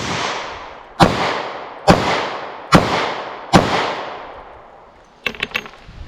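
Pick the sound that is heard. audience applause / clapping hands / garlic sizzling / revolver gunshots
revolver gunshots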